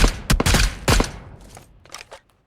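Rapid bursts of gunfire in PUBG Mobile ring out from behind, several loud close volleys in the first second followed by fainter scattered shots trailing off.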